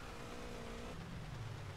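Engine drone of a car in GTA San Andreas, a steady low rumble that shifts pitch partway through, continuous and fairly quiet.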